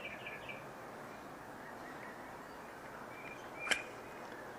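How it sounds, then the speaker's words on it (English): Faint birds chirp outdoors on a calm day on the Gulf Coast, with scattered high tweets over a steady hiss and one sharp, brief call near the end; no one speaks. "Forgive all the birds in the background."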